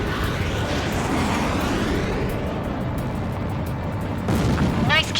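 In Ace Combat 7, a missile strikes an enemy aircraft, producing heavy booming blasts over a constant rushing jet-engine drone, with a sharp burst near the end.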